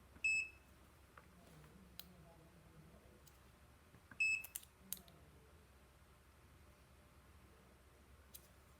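A TPI 192 digital multimeter on its continuity setting gives two short, sharp electronic beeps several seconds apart, each with a brief clicky onset, over a quiet background.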